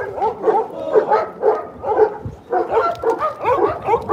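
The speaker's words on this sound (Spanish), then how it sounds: "los compañeros canes de Proteo lo despiden ladrando" Rescue dogs barking in a tribute to a fallen Mexican rescue dog, with a rapid, regular series of close, loud barks and yips repeating about twice per second.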